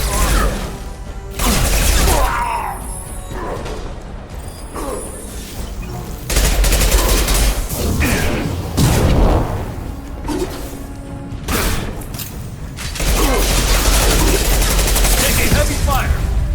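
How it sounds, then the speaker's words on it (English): Heavy gunfire and explosions from combat in the video game Mass Effect, fought against gangs on Omega, with bursts of rapid shots and loud booms layered over game sounds throughout, and character voice lines mixed in. "Taking heavy fire!"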